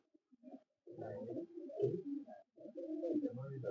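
Pigeons from a flock of champion flying pigeons give soft, throaty coos in short bursts separated by brief pauses. They sound close and quiet, with no talking.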